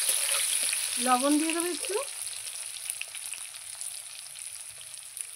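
Potatoes fry in a pan with a soft, continuous sizzling hiss, while a brief voice speaks over it near the start and the frying carries on alone.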